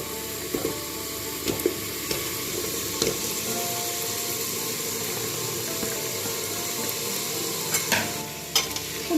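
Vegetables frying in a pan with spices and fried onions while being stirred, a steady sizzle with scraping knocks of the spoon throughout, close and continuous.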